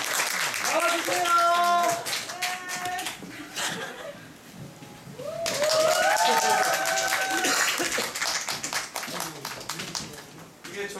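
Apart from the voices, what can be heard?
audience applause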